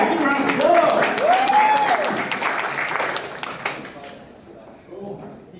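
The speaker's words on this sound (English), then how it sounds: "give a round of applause" An audience at a startup pitch event gives a round of applause that starts full and gradually thins out to scattered claps, with a voice speaking over the early part.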